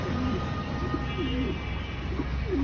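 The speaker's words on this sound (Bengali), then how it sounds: "এটা কি কবুতর? মুক্কি।" Mukki pigeons at a bird shop in Hathazari give repeated soft, low coos over a steady background hum from the market.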